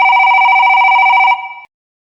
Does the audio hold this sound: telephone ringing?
yes